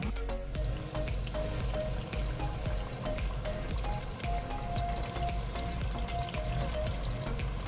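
Onions frying over high heat in oil in a flat metal pan: a dense, constant close sizzle and crackle with no pauses and no talking.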